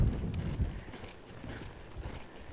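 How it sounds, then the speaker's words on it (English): A gray mare lopes along, her hooves thudding in a soft, muffled rhythm close by, with a few heavier low beats and no talking. "So here's my gray mare at a lope,"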